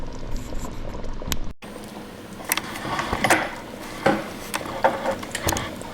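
Swamp rabbit gravy simmering in a covered pot, a continuous soft bubbling with scattered pops and lid rattles, briefly cut by a short gap, then irregular louder bursts of boiling.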